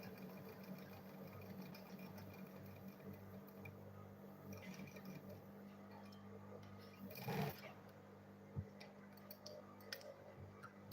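A sewing machine stitching fabric for a homemade lunch bag runs steadily and close, with a brief louder burst near the middle and a couple of sharp ticks afterward.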